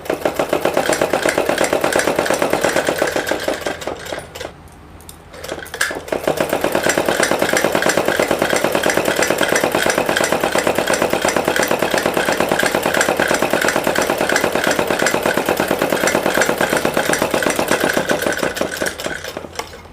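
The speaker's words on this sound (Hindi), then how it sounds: "इस पर भी हम सिलाई लगाएंगे।" A sewing machine stitching panels of a four-piece salwar, running in a steady rapid mechanical chatter that pauses briefly once and then resumes, loud and close.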